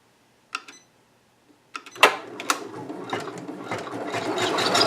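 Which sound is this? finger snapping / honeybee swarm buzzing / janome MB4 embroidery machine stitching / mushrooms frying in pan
janome MB4 embroidery machine stitching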